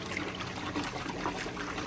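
Paint sprayer parts from a Graco sprayer being swished through a bucket of cloudy rinse water, giving a steady close trickling and sloshing of liquid throughout.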